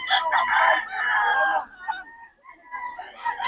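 Roosters crow loudly and close by at a chicken seller's in Bocaue, one long crow dominating the first second and a half, followed by quieter clucks and background chatter.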